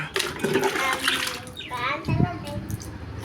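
Water splashes and pours into a basin under a child's chatter and other voices nearby.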